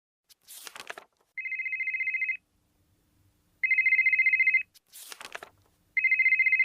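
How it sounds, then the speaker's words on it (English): A mobile phone ringtone plays in two clear bursts of steady electronic tone, each preceded by a short crackly rustle, loud and close with silence between. "Do you mind turning off your phone?"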